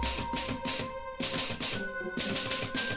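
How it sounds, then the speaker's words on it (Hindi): A grandfather's old typewriter being typed on, with rapid, close key strikes in steady bursts and brief pauses, fairly loud and alone. "मेरे दादा जान के पास यही टाइपराइटर था।"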